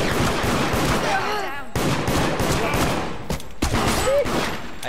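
Video-game gunfire crackles in loud, rapid automatic bursts, with several volleys overlapping and short cuts between them, close and dominant throughout.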